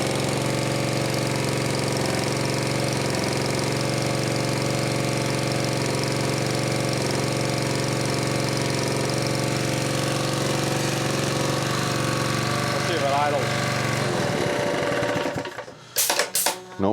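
A Honda GX140 gas engine on a Jenny air compressor under repair runs continuously and loudly with a steady throbbing idle and slight roughness before it shuts down near the end.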